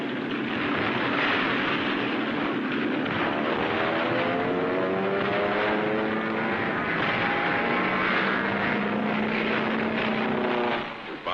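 A propeller warplane drones loudly and steadily overhead during the World War II battle at Tarawa, its engine pitch sliding slowly downward as it passes, with no break in the noise.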